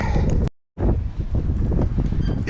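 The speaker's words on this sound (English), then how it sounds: "It's windy today," Strong outdoor wind buffets the microphone at a scrap-metal recycling yard, a loud continuous rumble that cuts out for a moment and then returns just as heavy.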